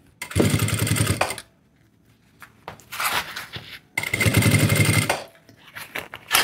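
Sewing machine stitching a shoulder bag in two loud bursts of running stitches, separated by pauses filled with soft handling and rustling of the fabric.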